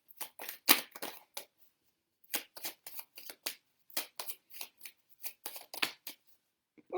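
Tarot cards are shuffled and drawn in close, crisp bursts of riffling and flicking, separated by short silent pauses.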